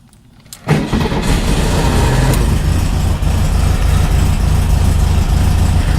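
Cold start of a neglected, overdue-for-tune-up older car: a brief crank after a quiet moment, then the engine catches with a loud low rumble and settles into a steady, rough idle close by.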